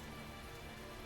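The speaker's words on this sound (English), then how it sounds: "As it's raining." Rain falling in the role-playing game Tales of Zestiria, a soft, even broadband hiss of steady rainfall, faint and unbroken, with no voices over it.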